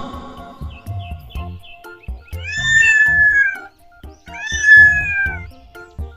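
A cat meows twice, two drawn-out, clear calls a couple of seconds apart, after some light tapping and rustling at the start.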